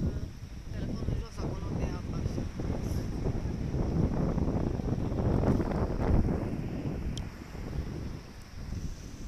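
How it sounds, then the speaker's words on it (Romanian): Strong wind buffets and roars across the microphone in continuous gusts, with rustling underneath and no clear voices. "Vântul bate, bate și din față și din spate."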